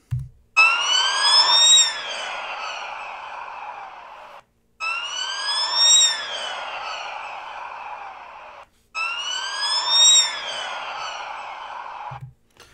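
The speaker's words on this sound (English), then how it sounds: "the sound of a siren from the perspective of someone who is first standing in front of the car and then behind the car" A police car siren wails as the vehicle passes, its pitch sweeping high and then dropping as it moves away. The pass is heard three times in a row with short silent gaps between, loud and clear with no talk.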